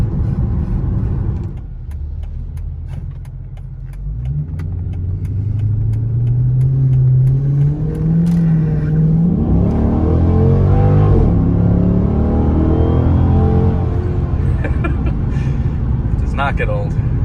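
A 2007 Dodge Magnum SRT8 with a 6.1 Hemi V8 and about 48k miles, cruising near 50 on cruise control, a low steady engine drone and road rumble from inside the cabin, with someone talking over it.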